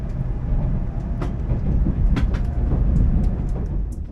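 A train rolls steadily along narrow gauge track in southern Japan, a continuous low rumble with intermittent clicks and rattles from the wheels and carriages.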